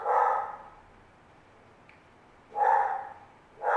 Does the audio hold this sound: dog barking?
yes